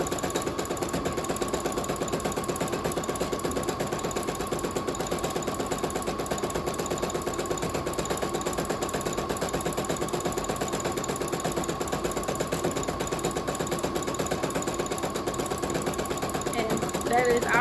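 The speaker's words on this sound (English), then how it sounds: "We're just going a straight stitch all the way down the ribbon, as closest to the edge as you can sew." A sewing machine runs a continuous straight stitch, sewing ribbon along the edge of a ruffle sock, its even mechanical whir steady throughout while someone talks over it.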